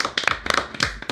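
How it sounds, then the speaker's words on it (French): Studio crew clapping for Julien, the director, on a French talk show: a handful of separate, uneven hand claps close by, loud and brief, with no talk over them. "On est avec Julien, qu'on applaudit."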